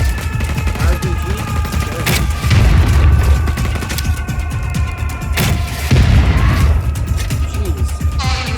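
Explosions and gunfire in Just Cause 4, with heavy booms, crashes and rapid bursts of shots coming loud and close, while players talk over the chaos.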